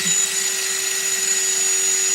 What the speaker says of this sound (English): you stick it in your drill like this here